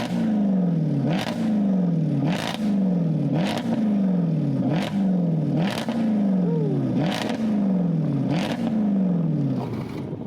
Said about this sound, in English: if you really want to hear that 5-litre V8 roar